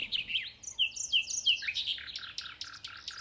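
Forest birds singing close by, with a rising whistled phrase followed by rapid repeated chirps and tweets over a quiet background.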